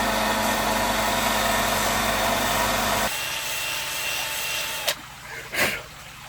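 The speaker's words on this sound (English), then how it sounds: "I'll do it on my sander quickly" A power sander widens a drilled hole in a workpiece while building an aquarium, giving a loud, steady whirring grind that drops in pitch partway through before winding down with a couple of brief bumps.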